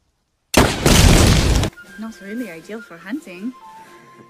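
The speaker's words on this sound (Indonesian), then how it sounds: "ternyata peluru itu akan meledak jika ditembakkan" A sudden loud blast of a cartridge round exploding as it is fired, lasting about a second, then speech and music-like tones continuing after it.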